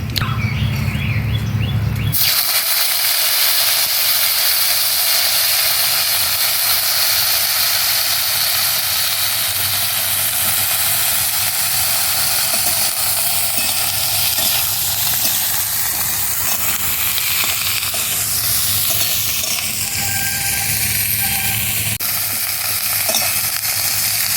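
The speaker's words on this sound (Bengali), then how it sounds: "এবারে আমি এখানে বকুলি নিয়ে নিয়েছি বকুলিগুলোকে একটু ভালো করে ভেজে নেব" Broccoli frying in oil in a wok with whole spices and dried chillies, a loud steady crackling sizzle close up that runs without a break after a brief opening noise.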